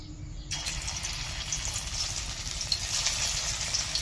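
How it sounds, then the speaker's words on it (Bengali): Shrimp and potato pakoras hiss and crackle steadily in hot oil, a loud, close deep-frying sizzle that swells sharply just after the start and holds continuous without talk. "তেলটা পুরোপুরি গরম হয়ে গেছে, এবার একটা একটা করে বড়া ভেজে নেব"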